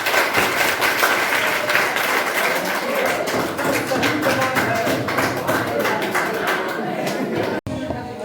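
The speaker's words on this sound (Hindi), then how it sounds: "इनके लिए जोरदार तालियां।" Students at a school quiz event give loud, sustained applause with crisp, rhythmic claps, continuing for about eight seconds before a brief cut near the end.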